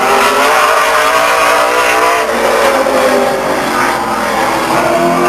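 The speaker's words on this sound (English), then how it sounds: "In the number 93 car from Fremont, that's Troy Ermish." The number 93 race car roars past at Stockton 99 Speedway, a loud, continuous engine howl with shifting pitch as it passes close by.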